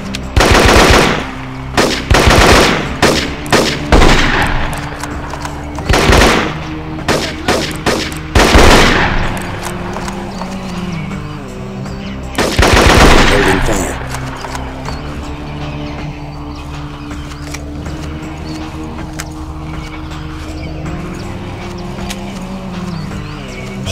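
Sustained machine gun bursts in Marine Sharpshooter 2: Jungle Warfare jungle combat, loud and close, coming in repeated volleys with pauses, then fading to lower rumbling background noise.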